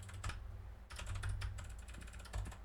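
Rapid computer keyboard typing in bursts of clattering keystrokes, close and fairly loud over a low steady hum, with no talk.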